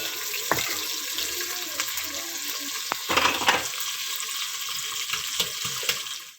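Onions for an aloo anday curry fry toward light brown in a pan, giving a steady close sizzle with occasional scraping clicks of a spoon stirring, and no voices.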